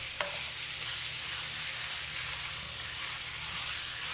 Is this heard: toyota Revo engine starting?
no